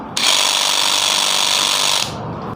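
Dewalt DCS312N cordless reciprocating saw runs in one loud, steady burst of about two seconds, a dense high buzzing that starts abruptly and cuts off cleanly, with no talk over it.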